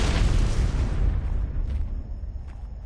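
C4 detonating in the video game Ark: a single heavy, loud boom with deep low-end rumble that slowly decays over a couple of seconds, with no talking.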